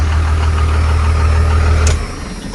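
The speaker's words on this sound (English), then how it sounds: "God, this truck sounds so good." A truck engine idles steadily and loudly close by, a deep even rumble that drops slightly in level near the end, with no talking.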